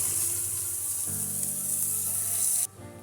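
Chopped onion and green chillies fry in a pan over a low-medium flame with a steady, hissing sizzle throughout, close by, before the sound cuts off abruptly near the end.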